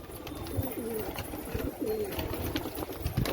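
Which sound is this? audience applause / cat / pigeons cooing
pigeons cooing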